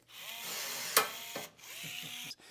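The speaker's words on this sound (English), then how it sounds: "pull on the trigger. So as I do that, it'll grab the rivet and pull it upwards" A hand rivet gun sets a rivet, with ratcheting mechanical squeaks and a sharp snap as the rivet pulls through, then more quiet squeaky clicks, all close and fairly faint.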